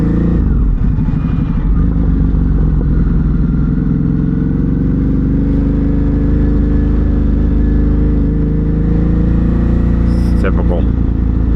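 Ducati Hypermotard 950 RVE motorcycle riding at night, a loud, continuous engine drone with wind rush heard close from the rider's position, the pitch rising and falling slightly, with a brief clatter near the end.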